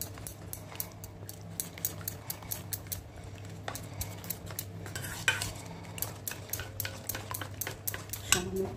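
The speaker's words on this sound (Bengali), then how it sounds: "জল দিয়ে আমি ব্যাটারটাকে তৈরি করে নিই। ভালো করে এটার মধ্যে কোনো লাম্প যেন না থাকে, একদম স্মুথ একটা ব্যাটার তৈরি করতে হবে।" Steady stirring of a smooth, water-thinned batter for spiny gourd, with a utensil scraping and clicking against the bowl in quick repeated strokes, close and fairly soft, with no talk.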